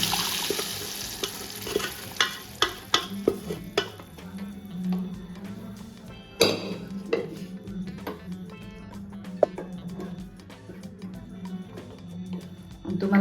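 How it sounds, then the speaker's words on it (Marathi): Red chili powder, turmeric and salt hitting hot oil in a pan, making a close, uneven sizzle broken by sharp clatters of a spoon against the pan, with no talking. "याच्यात टाकूया आपले हा घरातला लाल तिखट मसाला, हळद आणि मीठ. आणि हे तेलात टाकलं"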